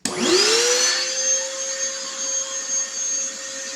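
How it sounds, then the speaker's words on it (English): A vacuum cleaner starts up with a rising whine, then settles into a steady loud roar and hum. "There's the vacuum."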